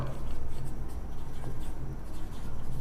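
Chalk or marker scratches and rubs across a board during a maths class, a close, continuous scraping texture with a faint low hum underneath and no talking.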